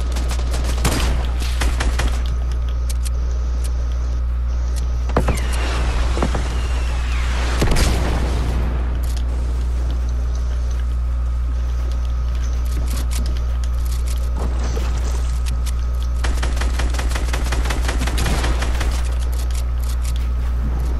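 Gunfire in a shooter video game comes in loud bursts of rapid shots and single cracks, with short quieter stretches between volleys over a steady low hum.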